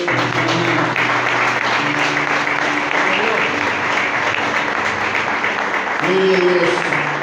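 A church congregation applauds the Lord during a service, dense continuous clapping filling the room, with sustained tones of music or voices running underneath and a brief louder swell near the end.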